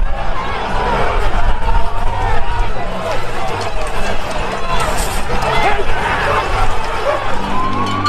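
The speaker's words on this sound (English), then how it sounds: "What you've just witnessed is the crowd of thousands overwhelming police" A crowd of thousands of protesters in Melbourne, Australia overwhelming police: dense, loud babble of voices and shouting with running footsteps, continuous throughout.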